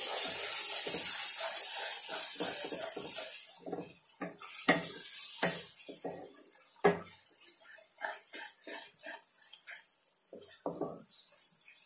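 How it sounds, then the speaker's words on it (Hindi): Chicken with chicken masala and spices roasts in a pan for dhaba-style chicken, giving a steady hiss and sizzle with repeated scraping and clinking of a spoon against the pan, fairly quiet. "अब इसको हम भून लेंगे"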